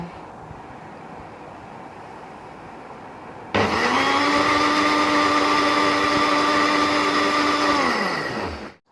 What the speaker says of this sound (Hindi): अब मैं यहाँ स्टार्ट करूँगी अपना मैंगो शेक बनाना